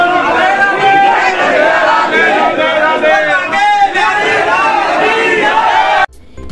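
A dense crowd packs the Radha Vallabh temple in Vrindavan during Holi, just after opening. Many voices shout and chant together in a loud, continuous babble that cuts off sharply near the end.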